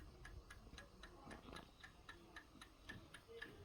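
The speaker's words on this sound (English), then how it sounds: "You can hear the timer ticking." A timer ticks on a Fisher & Paykel washing machine rinsing togs and towels. The ticks are faint, even and steady, roughly three per second, over a low room hum.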